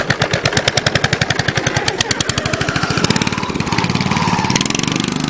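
A modified lawn tractor engine warming up roars with rapid, loud, choppy exhaust pulses like popping gunfire, close by, the beat quickening and smoothing into a steadier drone as it revs.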